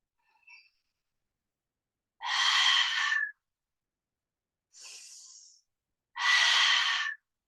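Slow, audible breaths during a yoga pose: a short faint puff, then two long, strong exhales through the mouth with a softer inhale between them, all close and unaccompanied.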